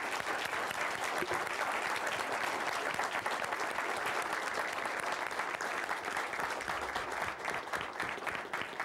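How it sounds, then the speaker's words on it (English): An audience gives Chef Kotani a steady round of applause, dense sustained clapping heard clearly and evenly for several seconds without letting up. "we'll give him a nice round of applause"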